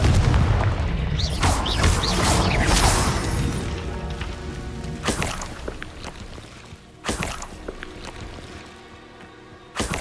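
Confringo blasting spell explosions in the Hogwarts Legacy video game: a loud booming burst at the start, then several sharp blasts spaced through the clip over a rumbling battle backdrop.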